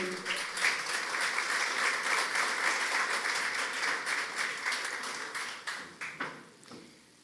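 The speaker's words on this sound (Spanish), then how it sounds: "Con el aplauso de ustedes, Mónica Tumbaco." A conference audience applauds a CEO speaker at a business forum, with strong, sustained clapping that thins and tapers into scattered claps near the end.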